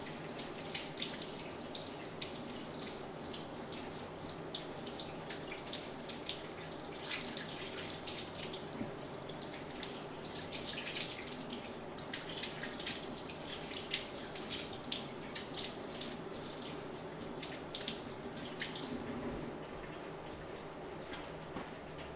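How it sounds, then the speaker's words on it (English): Tap water runs steadily into a kitchen sink as hands are washed, a continuous close splashing hiss that carries on for about twenty seconds with no talking, then cuts off near the end. "Wash my hands up for a sec, and we'll grab some cold water and the salt."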